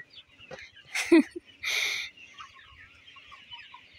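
Sonali chickens cluck in short, sharp bursts with a couple of louder squawks, close by and otherwise quiet, with faint rhythmic thuds underneath.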